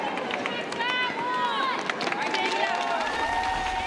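A figure-skating arena crowd at the Grand Prix of Russia in Moscow cheers and applauds a fallen skater. The roar is loud, steady and dense, with whistles and shouts rising over it, and a commentator's voice runs faintly underneath.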